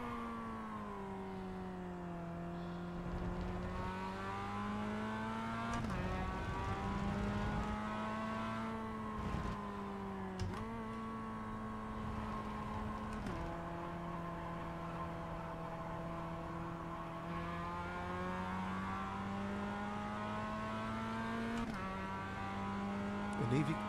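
A rookie Mazda race car in iRacing runs at speed, its engine whining steadily and rising and falling through gear changes, with someone talking over it.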